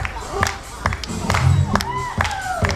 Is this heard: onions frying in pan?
no